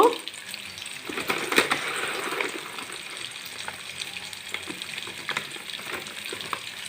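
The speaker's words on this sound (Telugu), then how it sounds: "ఒక స్పూను పచ్చిశనగపప్పు వేసి వీటిని చక్కగా వేగనిస్తున్నాను" Green chillies and lentils fry in a little oil in a village kitchen for chutney, a steady soft sizzle and crackle running throughout with a faint clink near the start.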